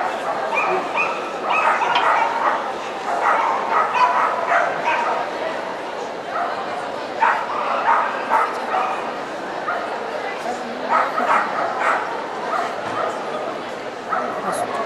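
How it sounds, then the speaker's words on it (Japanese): Miniature schnauzer at the 2012 FCI agility world championship, small dog team event, giving rapid, repeated yips and barks with some whimpering, steady and fairly close over an echoing arena while a commentator talks throughout. "ミニチュアシュナウザ元気いいな"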